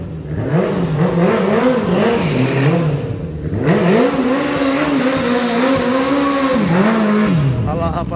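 A small motorcycle fitted with a Honda Hornet 600 engine revs hard while drifting, its loud wavering engine note climbing and dropping repeatedly over several seconds, close and continuous.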